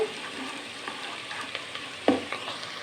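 Spice paste fries in hot ghee for an aloo matar pulao, giving a steady soft sizzle with a sharp utensil clank near the end.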